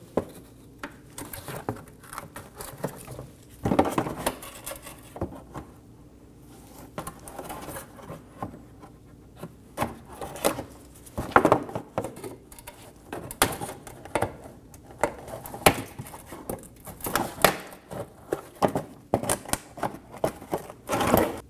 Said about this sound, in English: Using a trim tool, we're going to remove the 4 clips for our shield.